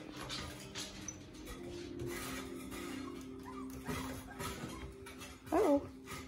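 Four-week-old puppies whimpering and whining softly nearby, with faint thin cries throughout and a sharper, louder yelp near the end.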